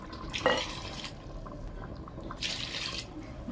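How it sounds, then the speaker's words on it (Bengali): Hot water is poured onto 300 grams of washed Gobindobhog rice in a pot, giving a soft, fairly quiet splashing and trickling with a couple of brighter bursts of pouring. "গরম জল করে রেখেছি, কিছু পরিমাণ গরম জল দিয়ে দেবো।"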